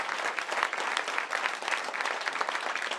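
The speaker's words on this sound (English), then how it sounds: "Can we have a massive round of applause for them as well?" A comedy club crowd applauds the venue's staff, steady close-packed clapping at moderate loudness holding evenly for the full stretch.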